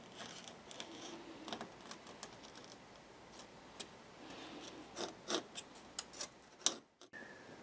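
A knife scores around a piece of bubinga veneer, giving faint scattered ticks and scratchy strokes that grow busier toward the end, with a sharper snap near the finish.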